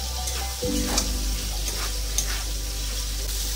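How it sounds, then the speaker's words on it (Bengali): Fried potatoes and pointed gourd sizzle steadily in a pan of spice paste. Faint scraping from stirring comes through, and a low background hum cuts off early on. "এবার এর মধ্যে আলু ভাজাগুলো পটল দিয়ে ভালো করে কষিয়ে দেবো।"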